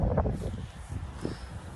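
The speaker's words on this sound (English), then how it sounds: "it's very windy" Gusty wind on a farm beside a brewer's grain trailer buffets the microphone with a dull, continuous low roar and rustle, rising and falling in uneven surges.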